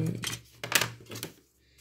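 Children's pinking scissors from Action cutting paper for a scrapbook ATC pouch: a few short, close crunchy snips in quick succession, then a brief quiet pause.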